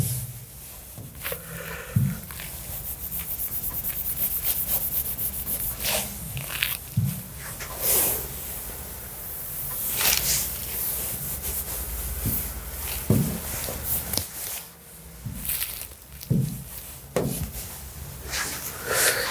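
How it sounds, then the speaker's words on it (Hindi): A board being wiped to erase written answer options during a quantitative aptitude lecture, with long, repeated rubbing strokes up close and occasional knocks between them. "मैं काम करता हूँ, ऑप्शन रब कर देता हूँ तब तक।"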